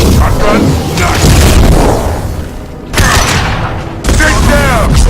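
Shotgun blasts in the Mass Effect 2 video game, loud booming shots at intervals mixed with combat noise and voices talking over the action.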